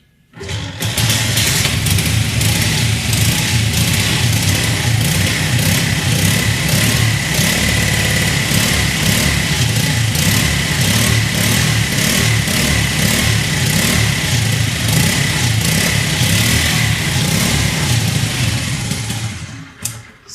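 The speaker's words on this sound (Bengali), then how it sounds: "এই বাইকটা আপনাদের স্টার্ট করে দেখাবো। দেখেন ইঞ্জিন সাউন্ড কতটা সুন্দর।" A Honda 80cc motorcycle engine starts up and then idles loudly and close by, holding a steady, continuous buzzing putter for about twenty seconds before it cuts off.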